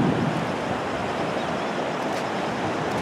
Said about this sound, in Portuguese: está muito forte a correnteza aqui, olha só